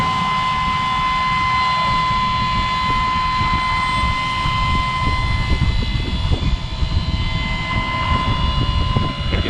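A corn and soybean planter runs steadily as seed feeds through its wheels and pipes, a loud continuous mechanical drone with a sustained whine and irregular light rattling throughout, no voices.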